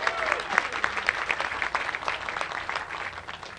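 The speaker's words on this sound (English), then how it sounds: "you can clap" Audience clapping at a Tennessee woman suffrage dedication ceremony, a crowd's applause with distinct individual claps standing out, fairly loud at first and tapering slightly.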